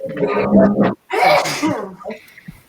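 A person lets out one loud, explosive sneeze up close, a sharp burst followed by softer breathy sounds and a brief murmur.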